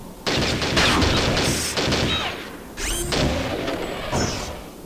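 Sustained, heavy gunfire fills Shogo, a sci-fi shooter, with dense bursts broken by short pauses, crashing impacts and mechanical whines between volleys, and no talking.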